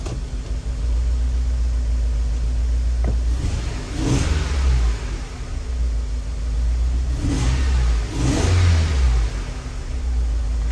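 Honda Element engine idling with a severe cylinder 1 misfire, a close, low, uneven rumble with periodic swells and a rough, shaking character.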